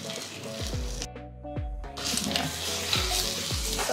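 Ginger garlic paste fries with browned onions in a pan, giving a steady sizzle broken by several spoon stirs and scrapes, with a short quieter gap in the middle.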